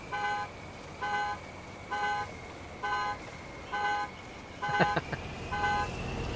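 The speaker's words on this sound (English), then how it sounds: "All the horns" Truck horns in American Truck Simulator blare in a regular rhythm, about seven short, loud blasts roughly a second apart, with a brief clatter partway through and no talking.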